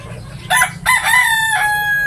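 A rooster crows nearby, a loud drawn-out call rising and then holding a long high note, with faint farmyard noise beneath.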